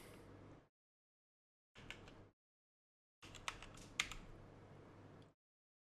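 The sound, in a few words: typing on a computer keyboard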